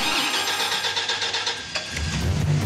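A rock crawler's engine cranks and fires, settling into a steady mid-pitched running note, close and fairly loud with a brief clatter as it catches; no one speaks.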